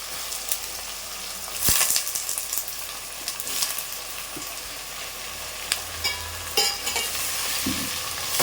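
Vegetables, including brinjal and drumstick, sizzle and crackle in hot oil with onions for a prawn curry, with occasional scraping stirs of a spoon in the pan, close and continuous with no voices.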